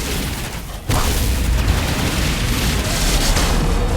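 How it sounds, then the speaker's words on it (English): An explosive uppercut move in the ABA video game lands with a sudden loud boom, followed by a dense, sustained blast of crackling, rumbling noise. "it's like an explosion uppercut where like you need to have good position to do it"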